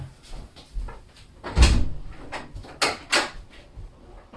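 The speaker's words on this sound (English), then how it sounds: "Got a cat at the door." Door rattling and knocking as a cat paws at it, a few irregular bumps and thuds, one louder clatter midway and sharper knocks later, close by in a quiet room.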